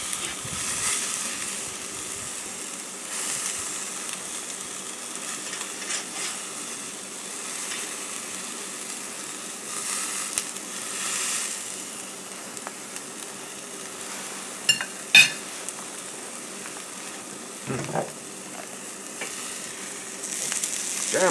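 Steak sizzling on a Lodge Sportsman's cast iron grill, a steady crackling frying hiss that runs throughout, close and moderately loud, with a few small pops and clicks.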